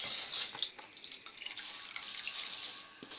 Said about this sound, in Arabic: هنزل دلوقتي بالرز اهو